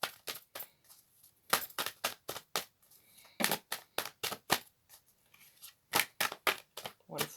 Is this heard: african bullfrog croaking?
no